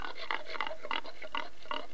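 Pigs on a pig farm in Agadir grunt and oink in a rapid, repeated series of rough calls. The sounds are at moderate distance and come with no talking.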